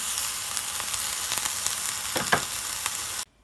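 Slice of bread grilling in a pan for a croque monsieur, a steady crackling sizzle with scattered pops and brief stirring clicks, close and fairly quiet, cutting off abruptly.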